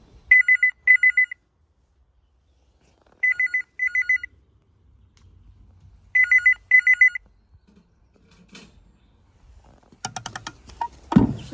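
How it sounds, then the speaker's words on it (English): An old telephone in a museum phone booth rings in three double-burst cycles of bright electric bell trills separated by silence, followed by some handling clatter and rustle at the end. "it had a very similar ringtone to the AA phone"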